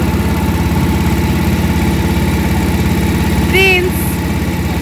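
A boat engine drones steadily on the Ganges near Namo Ghat at sunset, a loud close idling rumble with a brief whistle-like tone rising over it.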